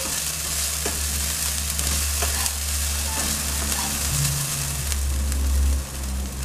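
Turmeric being stirred into a Keralan tofu moilee curry in a pan, a loud continuous sizzle and frying hiss with occasional scrapes and taps of a spoon, alongside a low rumbling hum, with no talk.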